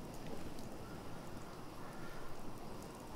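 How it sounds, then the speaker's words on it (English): Steady rain and wind in the video game Fallout 4 on a seashore: a dense, even hiss of falling rain with a low rushing rumble, continuous and fairly soft throughout, with no voices. "And just the rain and the wind, the sea and the shore."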